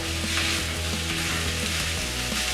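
Chorizo fries in a hot pan with a constant, dense sizzle and crackle, loud and close, steady throughout with faint scraping and no voices.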